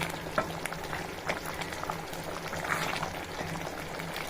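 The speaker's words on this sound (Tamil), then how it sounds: "லைட்டாக ஒரு கொதி கொதித்தாலே போதும்" Gravy bubbles and simmers in a pan with a steady soft gurgle and occasional small pops, close by and with no voices.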